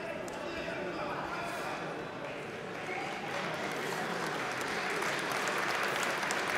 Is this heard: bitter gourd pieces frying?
no